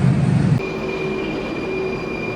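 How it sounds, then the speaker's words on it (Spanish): A historic tram in Prague runs along its rails with a steady rolling rumble and a thin sustained squeal, heard close and loud without speech. "Mirando con ustedes el tranvía histórico de Praga."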